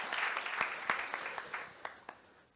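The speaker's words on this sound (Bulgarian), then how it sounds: "Още веднъж аплодисменти." Scattered applause from an audience at a book presentation in a club, a few hands clapping with distinct claps standing out, quickly thinning out and fading within a couple of seconds.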